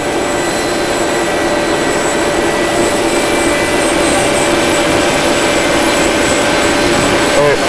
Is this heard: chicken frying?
no